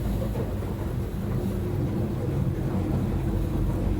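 Steady, loud low rumble of the engine on a Stabi 2500 Ultra Cab boat as it runs up toward tuna trolling speed, with a continuous drone and no distinct pauses.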